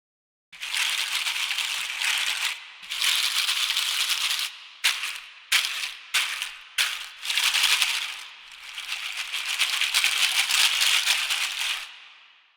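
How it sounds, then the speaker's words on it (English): A dry, hissing seed shaker sample from a Viking-themed virtual instrument library rattles in long sustained bursts, then quick short shakes, then another long roll, close and clear with no voices. "Here's seed shaker number 4."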